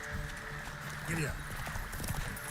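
Geralt's horse in the Witcher 3 video game clip-clopping along at pace, hoofbeats steady under game ambience with someone talking over it.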